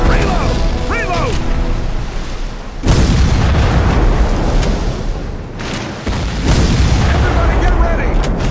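Loud booming cannon and gunfire in the Civil War video game History Civil War: Secret Mission, two heavy sustained blasts of rumbling fire, with brief shouted voices early on.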